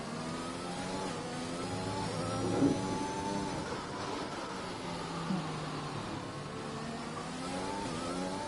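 A race car engine revs and holds high pitch through a hot lap in a sim racing game on the Brazil circuit, a steady, loud whine that rises and dips with gear changes and stays continuous throughout.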